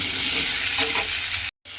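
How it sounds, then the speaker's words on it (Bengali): Diced potatoes fry lightly in a pan while being stirred, giving a continuous bright sizzle with faint scraping underneath that drops out for a moment near the end, then resumes. "দিয়ে এবার আলুটাকে একটু হালকা করে ভেজে নেব।"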